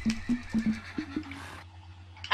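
A horse neighs in the video game WonderQuest, giving a string of short, clear whinnies in quick bursts that are loud and close, followed by a brief quieter tail with no talking.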